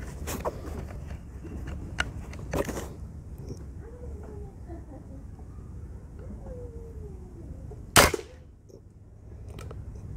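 A made-in-India Orion .177 calibre spring air rifle fires during an outdoor power test, one sharp, loud crack standing out clearly above steady background noise, with a few fainter clicks and knocks earlier.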